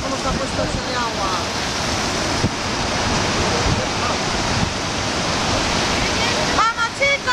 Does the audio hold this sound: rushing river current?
yes